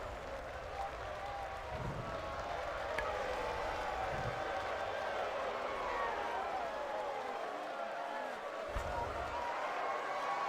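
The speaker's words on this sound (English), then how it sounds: "The yelling and screaming and cheering." Crowd yelling and cheering sound effects play during a game stream as a dense, continuous roar of voices and clapping with occasional low thumps, under a speaking voice.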